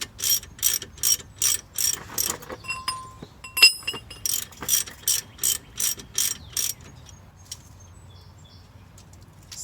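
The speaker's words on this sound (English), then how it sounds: "just the ratchet is enough to get the nut all the way out" A hand ratchet clicks in short, regular bursts while backing a rusty nut off a car's front strut bolt, about a dozen crisp, close ratcheting strokes, then a quiet pause.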